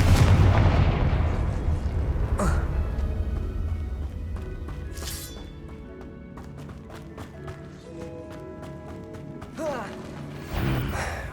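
A Confringo spell blast in the Hogwarts Legacy video game opens with a loud, deep boom that slowly decays, followed by scattered mechanical clanks and short bursts of game effects.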